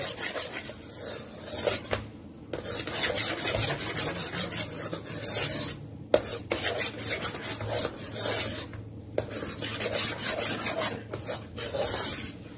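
Semolina is stirred and roasted in a pan over slow heat for sooji barfi, a continuous run of close, rhythmic scraping strokes with no talking.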